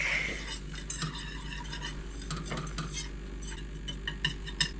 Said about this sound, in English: Let's give this a whisk.